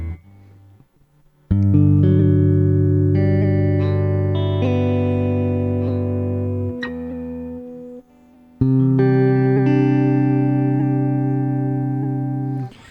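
Sustained electric guitar chords pulsing through a Chase Bliss Audio Warped Vinyl HiFi modulation pedal, the wobble changing shape from sine to square wave; two long strummed passages separated by a brief gap.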